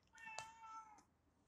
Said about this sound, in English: That's just my cat meowing.